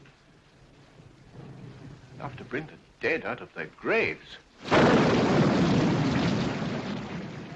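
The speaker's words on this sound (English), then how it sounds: "This is a storm indeed." A heavy thunderstorm breaks with a sudden loud roar of rain and rumbling thunder that swells and then slowly eases, following a stretch of several people talking in a dramatic scene.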